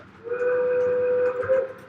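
A model train whistle sounds in one long steady blast of about a second, then a brief louder flutter at the end, clear and close with no talk over it.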